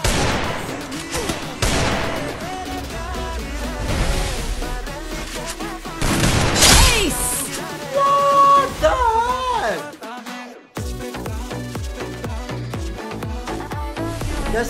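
Rapid bursts of gunfire in a Free Fire battle royale match, loud overlapping shots and explosions with game effects, a player talking throughout.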